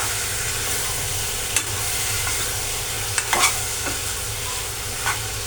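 Meat and masala are stirred in a pot over heat, a steady sizzle punctuated by a few scraping knocks of the spoon against the vessel.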